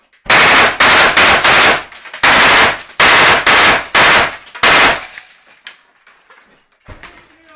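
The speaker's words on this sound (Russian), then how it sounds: "Выстрел!" Machine-gun fire from the November 2014 battle at Donetsk airport: about eight loud, rapid bursts in quick succession, then a fading echo and a faint scattered rumble.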